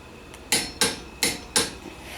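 A torque wrench tightening a Yamaha Banshee clutch nut to 45, heard as four sharp, close metallic clicks spaced about a third of a second apart over a quiet workshop background.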